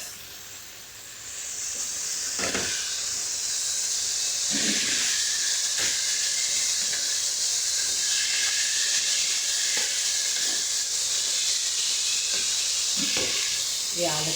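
Capsicum drops into a hot pan with Telugu home cooking of potato, onion and tomato, setting off a loud steady sizzle and hiss that fills the whole stretch, with occasional stirring clinks over it.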